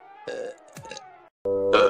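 A female cartoon character gives a drawn-out, voiced burp that swells loudly at the end, after a short, tonal vocal sound.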